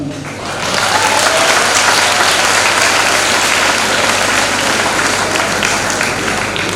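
Large audience applauding at an International Youth Day event, a dense, loud wash of clapping that rises quickly and holds steady throughout.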